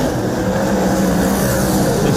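V8 dirt modified race cars roar around a dirt track, a loud continuous engine drone with a commentator talking over the top.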